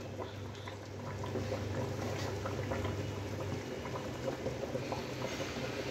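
Chicken rezala simmers in a pot. A soft, continuous bubbling and low hiss fills the background, fairly faint and steady throughout, with no talking.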